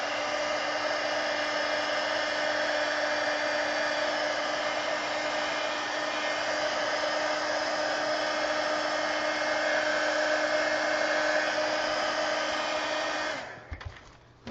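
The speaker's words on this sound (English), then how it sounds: "I'm going to get my heat gun here and just dry this." Heat gun drying paint on a coloring page, blowing as a loud, steady whirring roar for about thirteen seconds before it cuts off abruptly.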